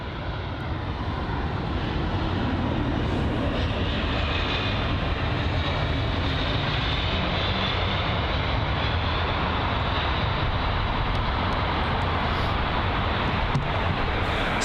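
A British Airways Airbus A319 airliner arriving at London Heathrow from Jersey, heard as a steady, loud broadband jet engine roar that holds without a break, mixed with wind noise on the microphone and no talk.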